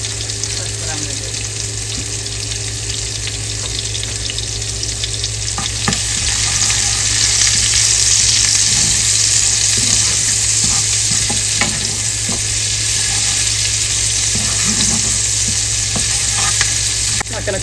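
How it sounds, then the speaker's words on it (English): Garlic, onion and jalapeño sizzle steadily in a hot pan, a loud continuous frying hiss with occasional stirring clicks throughout. "I just want to fry them up a little bit."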